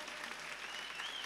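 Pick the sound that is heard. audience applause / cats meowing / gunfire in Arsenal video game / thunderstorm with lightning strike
audience applause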